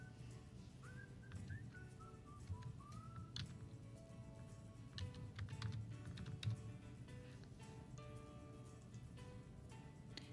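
Soft, fast keystrokes on a computer keyboard entering text into a software formula field, faint and quiet, broken by short pauses, with a few thin whistle-like tones in the background.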